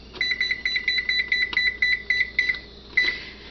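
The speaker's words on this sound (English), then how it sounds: "And I will set the timer for 10 minutes." A pressure canner's kitchen timer being set beeps in a quick run of short, bright electronic tones, close and clear with brief gaps, ending in one longer beep.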